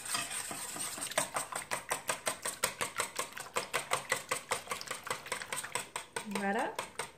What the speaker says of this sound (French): Je mélange à l'aide de mon fouet.